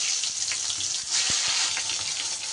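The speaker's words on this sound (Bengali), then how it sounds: "তেল গরম হলে এবার আমি বেগুনগুলোকে ভেজে নেব।" Eggplant pieces fry in hot mustard oil, giving a steady, close, hissing sizzle that continues without pause, with faint spatters and pops.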